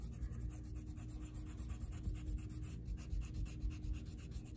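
A pencil eraser rubs steadily back and forth across paper while a shirt drawing is corrected, a continuous close, soft scratchy scrubbing with small rhythmic strokes.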